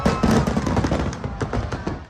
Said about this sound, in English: as pyrotechnics fill the air